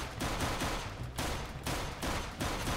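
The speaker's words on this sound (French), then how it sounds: "Allez, on lui tire dessus." Rapid bursts of gunfire in Minecraft aimed at a shark, several loud close volleys in quick succession with brief gaps between them.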